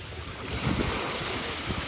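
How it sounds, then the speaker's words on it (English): Ocean surf rolling in at Haleiwa Beach Park on Oahu's North Shore, a brief steady wash of breaking waves mixed with wind buffeting the microphone. "We had stopped at Hali'iwa Beach Park, and it was gorgeous water."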